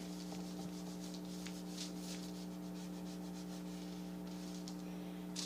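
Aluminum foil is rubbed heavily over wet paint to pull a print, giving a steady, close scraping rub under a constant low electrical hum, with no talking.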